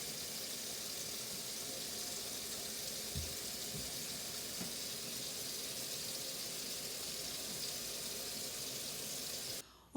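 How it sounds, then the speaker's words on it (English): Tap water runs steadily into a sink for hand washing in a home kitchen, a continuous close hiss with a few faint clinks, stopping abruptly at the end. "let's wash our hands"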